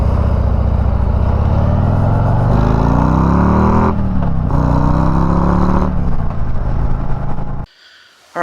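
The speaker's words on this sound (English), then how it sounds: "We'll do an acceleration with the stock pipes once again." A Harley-Davidson Touring motorcycle with stock exhaust pipes accelerates from a stop, its loud, close engine rumble rising in pitch through several gear shifts before cutting off sharply.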